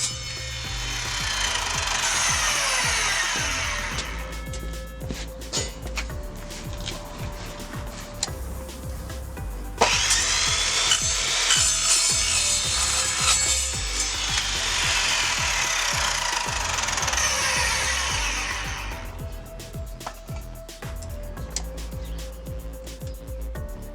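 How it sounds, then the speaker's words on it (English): A chop saw cuts through steel angle iron in two long, loud grinding passes separated by a short lull, the abrasive roar steady and close with no talking. "I did the same with this chop saw, and it rips through steel that quick"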